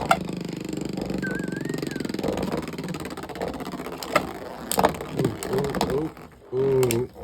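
Beyblade X spinning tops, including Dragoon, scrape and clatter in a stadium battle: a steady whirring grind, then sharp metallic clacks and hits toward the end, with brief voices in the background.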